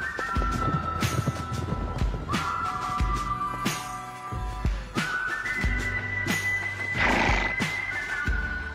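Andalusian horses at a royal equestrian art school whinny and neigh repeatedly over steady hoof clip-clops and a background whistle, fairly close and continuous.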